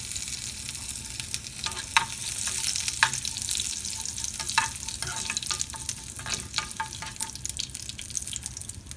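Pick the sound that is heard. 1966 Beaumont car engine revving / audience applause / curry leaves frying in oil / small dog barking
curry leaves frying in oil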